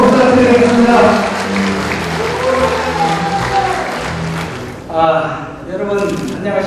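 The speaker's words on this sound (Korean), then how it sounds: "우리 부모님께 뜨거운 박수 부탁드리겠습니다" An audience at an inauguration ceremony applauds, a steady patter of clapping running under a voice amplified over a PA.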